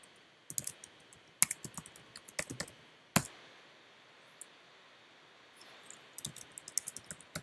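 Terraform commands typed on a computer keyboard, quiet close clicks in quick irregular bursts separated by short pauses, with an occasional sharper key strike.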